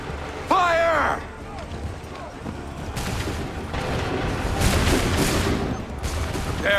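Musket volleys in Assassin's Creed 3 crash out as massed, rolling gunfire, loud and dense, with shouted orders and battle noise over a continuous roar.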